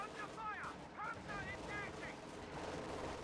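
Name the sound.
rifle gunfire in a strategy video game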